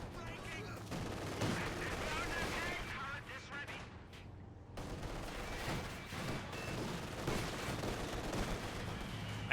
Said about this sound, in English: here you can see how good the mortar is. Like, it missed with the shot, but the next shot will probably hit